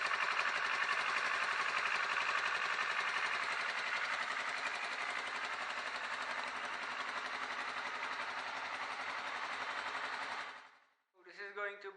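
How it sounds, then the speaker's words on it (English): A crashed Kawasaki ER-6 motorcycle engine with a holed radiator runs steadily with a dense, rattling drone for about ten seconds, then cuts off abruptly, followed by a brief burst of other noise. "The engine seems to run fine."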